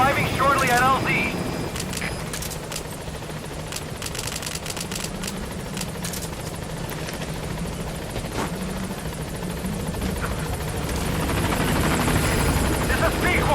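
Pequod, a helicopter in Metal Gear Solid V: The Phantom Pain, approaches the landing zone with a continuous rotor thump and engine roar, rising louder toward the end, with game gunfire and voices at times.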